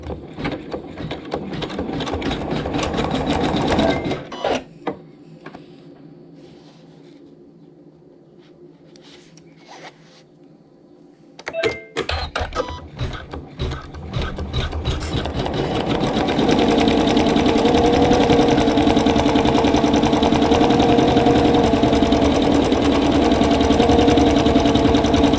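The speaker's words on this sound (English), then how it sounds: "the machine is going to stitch a little circle right here in the corner" A domestic sewing machine stitches a small circle in the corner of a quilt block, its rapid mechanical whir running steadily, pausing to a quiet hum, then resuming loud and continuous.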